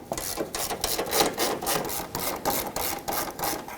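Ratchet wrench clicking and rasping as 14mm bolts are loosened from the bumper frame of a Toyota Tacoma; a close, steady run of quick rhythmic bursts with no talk.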